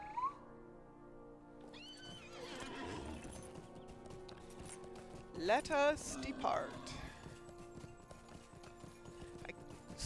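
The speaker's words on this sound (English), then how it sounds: "summoning the horse." Video game horse being summoned, with hooves clip-clopping and a neigh partway through, heard under a voice speaking and game ambience.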